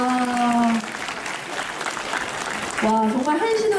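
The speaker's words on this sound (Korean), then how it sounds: "여러분 다시 한번 큰 박수 부탁드리겠습니다" A crowd claps at a martial arts festival opening ceremony following a taekwondo demonstration, sustained applause heard under and between an announcer's voice, which breaks in at the start and again near the end.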